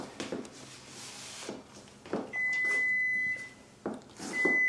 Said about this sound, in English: Oh, that's our timer going off again.